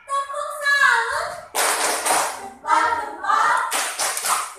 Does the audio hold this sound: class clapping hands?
yes